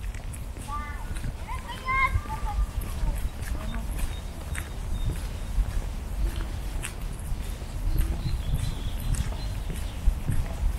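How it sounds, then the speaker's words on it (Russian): Horse hooves clop irregularly on hard ground amid outdoor ambience at VDNKh in Moscow, with people's voices, including a child's, talking nearby. "Конечно, кони, там же конная."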